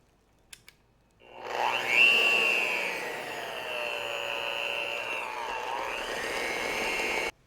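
A mixer whirs steadily for about six seconds, blending powdered sugar into dirt cake filling in a bowl. Its near, constant motor drone follows a couple of faint clicks.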